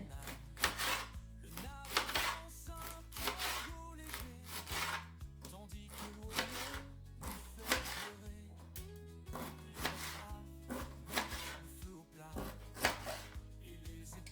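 Rapid, steady knife chopping of endives and leeks on a board, a dense run of sharp close taps across the whole stretch with brief pauses and no talk.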